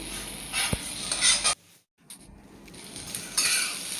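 Okra fries in a pan with a light sizzle as a utensil stirs it, giving scraping bursts and a sharp clink, broken by a brief near-silent gap before the stirring resumes.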